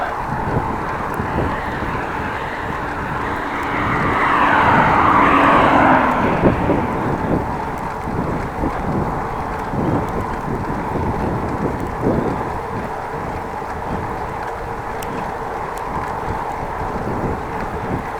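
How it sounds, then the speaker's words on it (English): Wind blowing outdoors, a loud, constant rush buffeting the microphone, swelling briefly in the middle, with no voices over it. "But still wind."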